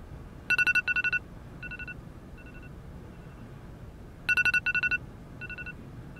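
A telephone rings with an electronic trilling tone in two separate bursts of rapid pulses, moderately loud over a quiet room background.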